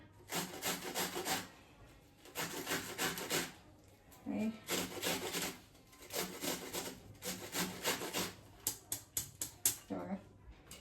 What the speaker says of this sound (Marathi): आता हा ना माझा हा कोबी किसून सगळं झालं आहे पूर्ण किसून झालं